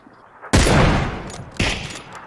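Two loud, close bursts of automatic gunfire from the battle royale game PUBG (PlayerUnknown's Battlegrounds), each followed by a short ringing decay.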